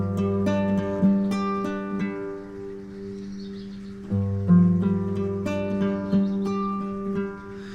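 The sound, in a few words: guitar riff fingerpicked slowly, thumb plucking strings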